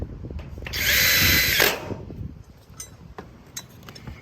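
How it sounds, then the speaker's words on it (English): A power drill drives screws into the Z-bar on a standing seam metal roof while a ridge cap is installed, giving one loud high whine of about a second, then fading to faint clinks and handling noise. "And then I'll run some screws to grab onto the Z-bar, about an inch in, because that's where the caulking is."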